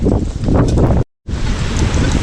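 Strong January wind buffets the microphone outdoors in a continuous roar, cutting out abruptly for a moment before resuming just as loud.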